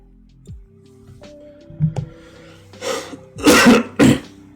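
A person coughing several times into a microphone during a live coding show, a few muffled throat sounds and a soft thump followed by two or three loud, close, harsh coughs near the end.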